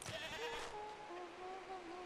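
Goat bleats in the hand-drawn mountain horror game Mundaun, a wavering, nasal call that starts loud and trails off into a long, thin, drawn-out tone with no talking over it.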